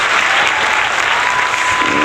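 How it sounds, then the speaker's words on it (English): An awards-show audience claps and cheers with loud, dense, steady applause from a crowd, sustained throughout without a break. "Let's give them a little cheer there."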